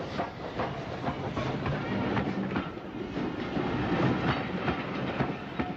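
A Schools Class 440 steam locomotive on a Southern Railway up service in Kent rumbles past, with continuous clattering wheels and hissing rolling noise staying close and loud throughout.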